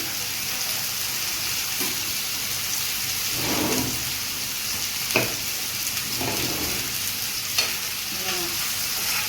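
A whole tomato sizzles in a hot pan with ginger, garlic and chilli for a village-style creek clam recipe, with steady frying and several scraping stirs at intervals, close and clear.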